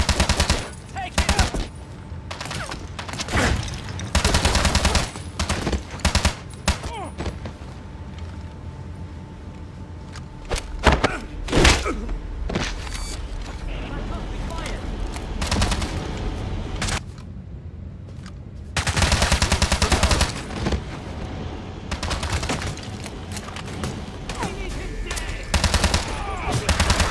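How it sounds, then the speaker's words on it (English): Heavy automatic gunfire from the James Bond 007: Blood Stone video game rattles almost without pause in loud, dense bursts, broken by a few brief lulls, with shouted commands mixed in. "Take him down! Keep firing! Bring him down!"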